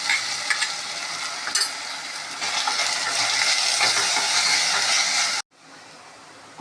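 Ghee rice masala with ground coconut paste sautés in a pan, giving a continuous close sizzle with occasional scraping clicks; the sound drops abruptly to a fainter hiss near the end.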